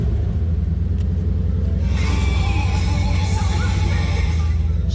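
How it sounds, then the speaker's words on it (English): A 2023 Ford Mustang Shelby Super Snake convertible engine runs loud and close, a deep steady rumbling idle throughout with a brighter rise in tone partway through, and no talking over it. "We're going to start it up, let you hear it run."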